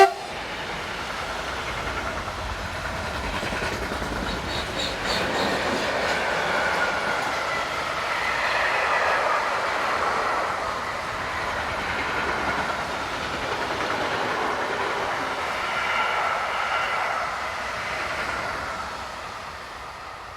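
A freight train on a European main line near Wunstorf rumbles steadily past for about twenty seconds, wheels clattering over rail joints, with a brief horn toot near the start.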